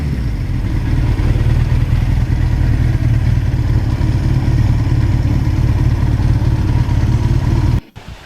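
A 38-year-old Suzuki GS1100E motorcycle engine runs steadily nearby with a deep, even rumble and mechanical clatter, cutting off abruptly near the end.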